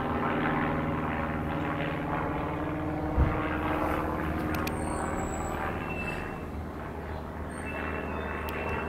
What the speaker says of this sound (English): hear that aeroplane